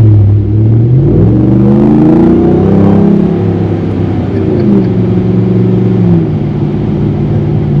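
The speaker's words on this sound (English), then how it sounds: "we'll really start to hear what this thing sounds like and feels like to accelerate" A supercharged Ram TRX pickup truck accelerates on an open stretch of road, its engine note rising steadily through the gears with a loud, continuous rumble heard from inside the cab.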